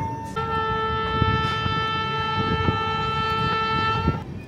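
The Teesta Torsa Express sounds its horn in one long, steady, loud blast with rumbling rail noise beneath, heard at night on the down line.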